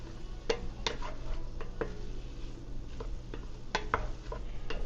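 Chicken and dumplings stew simmering in a pot and stirred with a utensil, several soft scraping clicks and taps against the pot over a quiet bubbling background, fairly faint and close.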